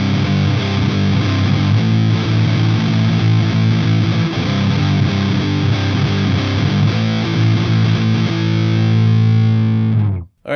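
Distorted electric guitar power chords with a suspended-fourth colour ring out loud and sustained, held chords shifting now and then before cutting off abruptly near the end, with no voice.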